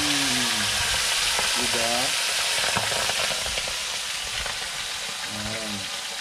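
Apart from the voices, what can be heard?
frying freshly caught fish in hot oil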